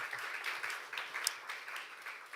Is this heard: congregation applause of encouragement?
yes